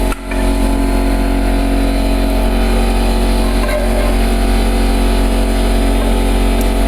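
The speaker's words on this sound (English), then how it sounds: "That's the sound of an air compressor" A loud, steady air compressor drone with a constant low hum and buzzing tones, running continuously at close range without any talk.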